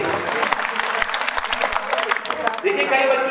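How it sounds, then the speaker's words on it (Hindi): Audience clapping for a student at a talk on exam fear, a dense burst of many hands lasting a few seconds, fairly loud and close, with voices mixed in. "तालियां बजाओ बच्चे के लिए।"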